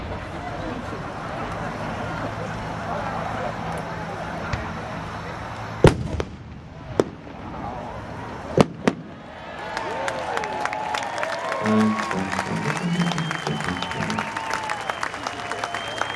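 A 12-inch giant silver palm tree firework shell with red coconuts bursting at a fireworks display: a few sharp distant bangs, followed by crackling and the murmur of a crowd.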